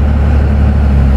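An older Cummins diesel pickup engine idles with a deep, steady low rumble and even throb, loud and close, continuous throughout the short stretch with no voices.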